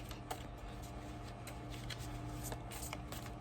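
Tarot cards being shuffled and drawn by hand, a faint, quick riffling and soft slapping of card stock heard up close in a quiet room.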